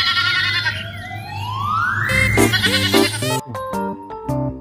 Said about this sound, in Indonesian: ini adalah kambing teman-teman